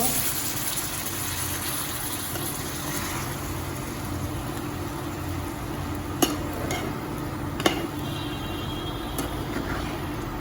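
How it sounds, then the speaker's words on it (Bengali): Water is poured into a pan of fried soybean chunks, giving a continuous gushing hiss and bubbling for about ten seconds, broken by a couple of sharp clinks near the end. No voices. "এবার একটু জল দিয়ে দেব"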